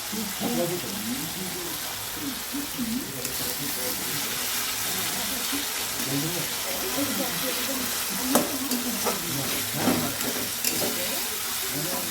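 Meat coated in masala fries in oil with whole tomato and is stirred, a steady sizzle and hiss with scraping stirs running under a voice talking throughout.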